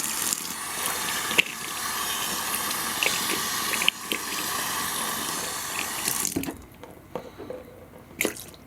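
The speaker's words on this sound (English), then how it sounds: "run some water on that." Tap water runs steadily into a sink over a shaving brush, a close, even hiss with small clinks and drips, then stops near the end, leaving a few scattered drips and handling noises.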